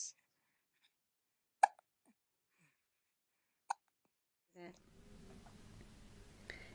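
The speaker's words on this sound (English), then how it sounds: "Hiccups." An elderly woman hiccups twice, two sharp isolated catches in a quiet room, followed by a soft breathy sound and low background rumble.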